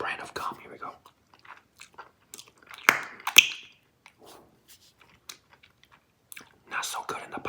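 Close, quiet wet chewing and crunchy bites of Big League Chew bubble gum candy, in scattered bursts with a couple of sharper snaps, alongside soft murmured whispering.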